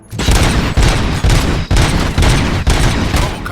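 Heavy, close gunfire in the RoboCop: Rogue City video game, loud bursts of automatic shots in several rapid volleys separated by brief pauses.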